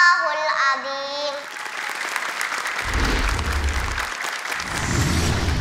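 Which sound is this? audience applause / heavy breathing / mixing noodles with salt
audience applause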